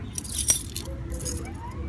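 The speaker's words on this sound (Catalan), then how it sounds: "Els claus de casa." House keys on a keyring jangle briefly and close by, a few light metallic chinks over quiet room noise.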